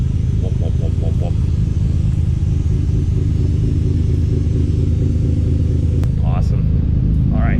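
A car engine with a new 2.5-inch exhaust idles with a deep, loud, steady rumble close by, continuous throughout with a person talking briefly over it.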